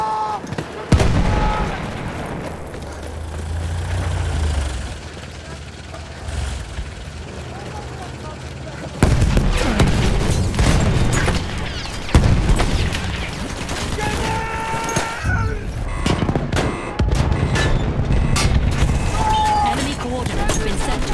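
Artillery barrage in the Battlefield 1 video game: heavy booms and rolling blasts with scattered gunfire, quieter at first and then loud and dense from about nine seconds on, with game voices talking over it.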